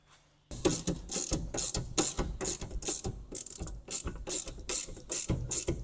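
A hand ratchet clicking rapidly in close, repeated bursts while bolts are tightened on a Case tractor on a farm, loud and steady with short gaps between strokes.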